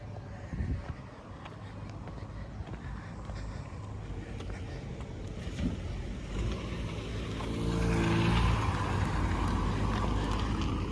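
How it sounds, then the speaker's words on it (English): A car approaches along a park road at Keaiwa Heiau State Recreation Area on the Aiea loop trail, a rising rumble that grows louder near the end over outdoor wind noise. "There's a car coming."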